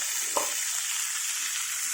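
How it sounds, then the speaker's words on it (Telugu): Green chillies and chana dal frying in hot oil for a bottle gourd curry, a steady close sizzle with one brief stir-like tick near the start and no talking. "ఈ శనగపప్పు పచ్చిమిరకాయలు బాగా వేగాలండి."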